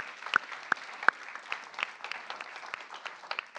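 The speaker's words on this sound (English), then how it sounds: "let's give Adi and Sri from Signal another round of applause" Audience applause at a live pitch contest, a steady patter of many hands clapping with a few sharp nearby claps standing out, heard alone without speech.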